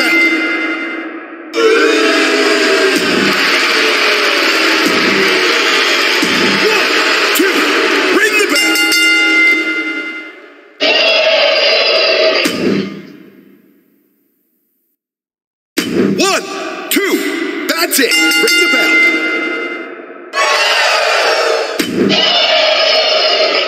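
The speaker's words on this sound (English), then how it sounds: "Let me hear the bell." A wrestling ring bell in the WWE2K23 video game rings loud and close, struck over and over in quick runs with bright metallic tones ringing out between two short silent gaps, and a voice talks over it.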